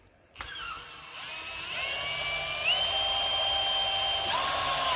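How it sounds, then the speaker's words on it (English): A power drill drives a screw into a garage door while foam board insulation is fitted, starting with a sharp click, then a high whine that climbs in pitch and holds steady, close and fairly loud. "Start slow with the drill,"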